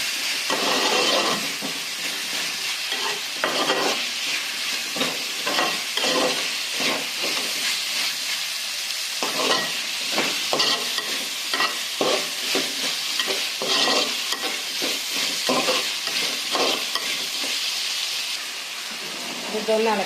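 Three chopped tomatoes stirred and frying in oil in a pan for a chicken curry, a steady loud sizzle broken by repeated scraping strokes of a spoon, with a voice talking at times.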